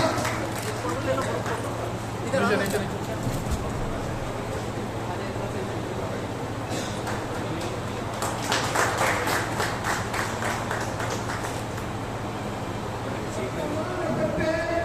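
Applause from an audience welcoming the mayor at a public event, a scattered clapping crowd that swells in the middle, heard under ongoing talk and a low steady hum.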